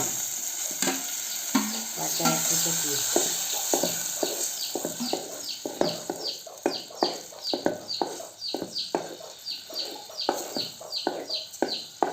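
Spice chutney sautéing in a pan for a dry fish curry, with a steady high sizzle and a run of sharp, repeated scraping strokes as it is stirred, close and clear, with no voices.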